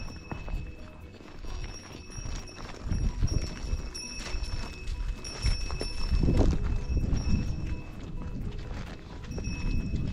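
A horse walks a snowy high mountain trail near Tilicho Lake, its hooves thudding in an uneven close rhythm over wind and faint steady tones.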